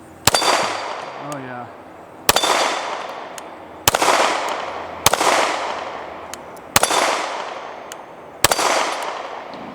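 Five sharp 9mm pistol shots from a Canik TP9 Elite SC ring off a steel hostage popper outdoors, evenly spaced about 1.5 seconds apart, each with a long decaying echo; a brief voice speaks near the start.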